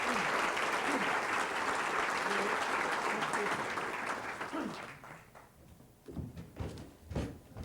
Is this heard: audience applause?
yes